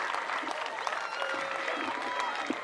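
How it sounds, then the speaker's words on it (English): Steady crowd applause for a group of young ladies at a local community event, continuous and fairly distant-sounding, with faint voices mixed in. "Give all of these young ladies a big hand, a big round of applause"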